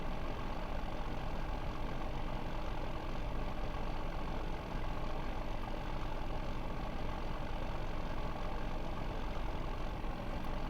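Steady, droning engine of a Dodge truck with a Cummins engine climbing a hill in Farming Simulator 2015, a continuous dense rumble with no pauses or voices.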